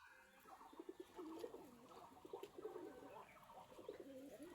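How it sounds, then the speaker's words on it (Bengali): Pigeons coo in the rain, soft repeated throaty calls overlapping in an uneven rhythm, close but quiet, over a light patter of rainfall. "অনেক আনন্দ করছে কবুতরগুলো।"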